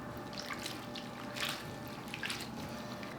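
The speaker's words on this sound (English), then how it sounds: "I'm going to give it a quick rinse through the water and then going to strain it out" Chopped leeks are rinsed and swished in water, giving soft splashes and trickling drips at a low, close level, with no talking.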